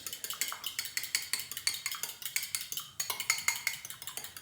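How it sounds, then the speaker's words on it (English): A fork scrambles eggs in a bowl, rapid rhythmic clinking and tapping strokes against the bowl, close and steady with a brief pause partway through. "We simply take a fork, give it a bit of a scramble."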